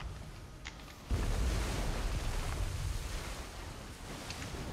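Crashing waves attack in a video game raid: a sudden loud surge of rushing, surf-like water swells in and holds steady, with faint wind-like hiss throughout and no talk.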